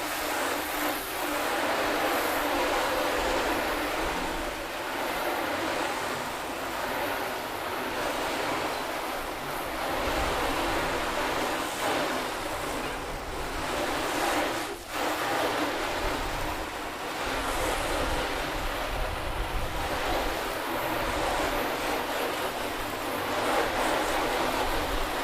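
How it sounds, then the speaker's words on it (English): A garden hose sprays water steadily to rinse soap off a car body panel during a wash and sealant test, a loud continuous hissing spray with no talking. "Let's rinse all this soap off."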